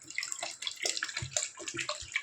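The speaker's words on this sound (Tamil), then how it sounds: "இப்போ நான் 3/4 லிட்டர் சேர்த்தேன். இப்போ 350 ml தண்ணி சேர்த்துருக்கேன்." Water splashes and gurgles as it is poured into a pot for vegetable biryani, a brief close, steady trickling pour with no voices.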